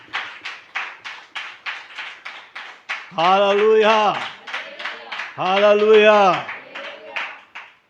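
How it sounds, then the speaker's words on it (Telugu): A congregation in a Pentecostal prayer house claps in a steady, brisk rhythm of sharp hand claps. A voice loudly chants over the clapping twice. "చప్పట్లు కొట్టి దేవుని నామాన్ని మహిమపరచండి."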